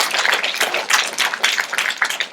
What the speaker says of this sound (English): Round of applause for that answer.